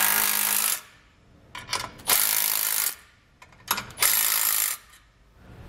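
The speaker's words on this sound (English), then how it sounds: "Next, we're going to move on to our bottom clamps, and these are also going to use a 15mm socket." A ratchet wrench with a 15mm socket tightens the bottom clamp bolts while Air Lift LoadLifter 5000 air helper springs are installed; three close bursts of rapid clicking, separated by short pauses, with no talking.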